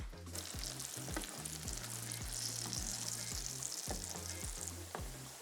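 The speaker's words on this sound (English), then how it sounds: "let it fry probably about maybe 2 minutes each side, again, until it's like a golden brown" Yuca pieces fry in hot oil with a continuous, even sizzle and faint crackling, close up and without speech, over a low repeating musical pulse.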